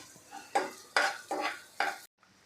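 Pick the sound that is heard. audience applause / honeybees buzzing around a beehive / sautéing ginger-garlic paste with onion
sautéing ginger-garlic paste with onion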